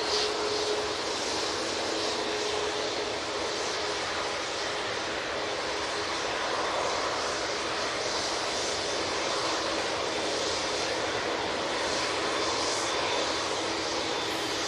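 An Airbus A320-200 jet at Manchester Airport roars steadily throughout, a loud broad engine rumble and hiss that never lets up, with no voices over it.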